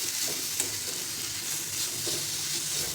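A spoon keeps working through a sweet cardamom mixture for patolya in a hot pan, a steady scraping stir over a continuous soft sizzle, close and even throughout with no voices.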